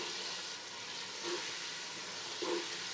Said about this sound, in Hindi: अब हम इसकी करेंगे भुनाई अच्छी तरह से।